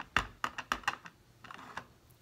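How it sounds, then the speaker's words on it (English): A snowflake Christmas tree stamp pressed with powder pink ink, a quick series of soft, close tapping knocks, about eight light taps in an uneven rhythm. "So I'm going to stamp it in the powder pink."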